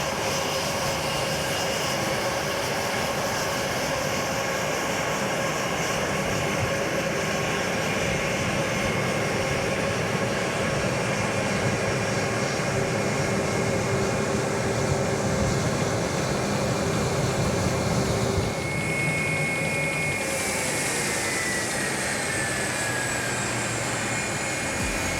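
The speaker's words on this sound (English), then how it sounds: "One of the most colorful aircrafts currently flying to Aruba is this bright yellow Airbus 321 by Spirit Airlines." Spirit Airlines Airbus A321 jet at Queen Beatrix International Airport in Aruba, heard as a steady, loud roar of jet engines running close by, with a rising whine and a shift in tone late in the recording.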